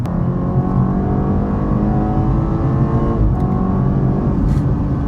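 A sports car engine revs hard and steadily, a loud, continuous throaty roar that climbs and holds through the revs without pause.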